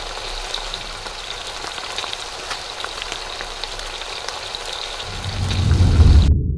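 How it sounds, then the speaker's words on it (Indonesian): Minecraft rain, a sound effect made from splattering oil and poured powder, hisses as a steady sizzling patter, then swells into a louder, deeper rumble near the end. "Suara hujan di Minecraft juga unik dan hampir mendekati suara hujan di dunia nyata."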